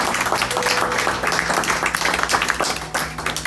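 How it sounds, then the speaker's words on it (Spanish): Congregation clapping in a church service, a lively, fairly close burst of many hands with uneven rhythm, sustained throughout. "Denle un aplauso a Cristo."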